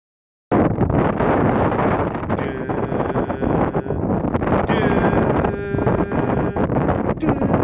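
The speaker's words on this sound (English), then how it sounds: "the wind was super windy in the compound" Loud, blustery wind buffets the microphone continuously, a harsh roaring rumble that cuts in abruptly and never lets up.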